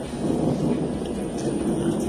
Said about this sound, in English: Oh, that thunder though.